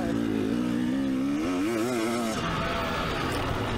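A 2024 KTM 300 SX dirt bike engine revs and drones steadily, pitch rising and falling as it shifts through laps, loud and close, with no talk.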